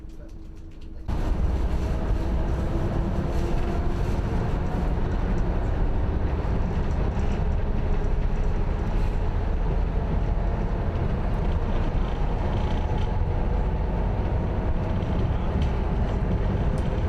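Diesel multiple unit train running on the Strathspey Railway near Boat of Garten towards Aviemore, a steady low engine drone and rumble on the rails that starts abruptly and holds continuously throughout, with no talking.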